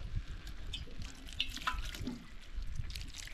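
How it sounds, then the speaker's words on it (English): Water splashes into a pan of fish risotto with fresh snapper cooking over a camp stove on a boat, a faint pour with drips and gentle sizzling underneath, quiet and close. "Just add a touch more water."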